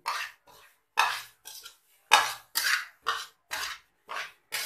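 Dry semolina for sooji halwa being roasted and scraped in a pan, heard as a series of about ten distinct rasping strokes of a spoon against metal, each a short, bright scratch, close and fairly loud with brief pauses between them.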